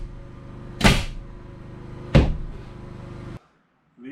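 Two sharp cabinet door knocks about a second apart, close and fairly loud against a steady low hum, in a homestead house where the doors sit off-true, then the background drops away.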